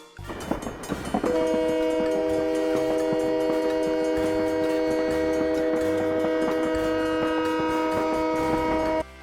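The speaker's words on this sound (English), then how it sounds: "The truck tried crossing even though the train alarm was already active" A train rumbles past a railway crossing with a sustained, loud horn blaring over rhythmic clacking of wheels on the rails.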